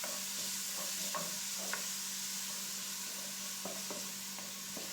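Chopped onions go into a very hot pan and sizzle with a constant soft frying hiss, broken by a few light scraping and stirring knocks.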